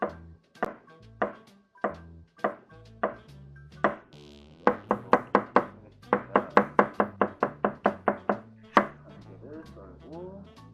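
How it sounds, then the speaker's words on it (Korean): A cucumber being sliced diagonally with a knife on a board, in close, crisp chops that start spaced out and then come in a fast, even run of about a dozen strokes before a final heavier knock. "오이는 이렇게 어슷하기를 해서 썰고"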